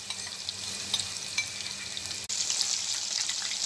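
A batch of Dhaka chicken fries in hot oil with a steady, fairly soft sizzle and light crackling pops, briefly interrupted by a short dropout before the sizzling carries on.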